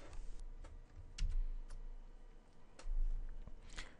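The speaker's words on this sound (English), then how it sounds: "You can go ahead and type some code in here." Typing code into a lightweight HTML editor on a computer keyboard, scattered soft key clicks in short uneven bursts, close up and quiet, with a low background hum.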